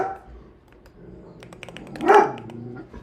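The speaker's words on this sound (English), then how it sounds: "Sorry for the dog barking." A single dog bark rings out midway over faint background noise, preceded by a few soft clicks and light rustling.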